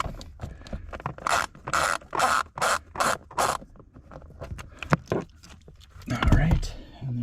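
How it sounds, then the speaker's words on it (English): Worn ratcheting screwdriver turning screws in a 2004-2008 Acura TSX during HVAC blower fan replacement: a rapid run of about six sharp ratchet clicks, followed by scattered scraping and clicking, with a voice talking throughout. "I think my screwdriver has seen its better days, my ratcheting screwdriver"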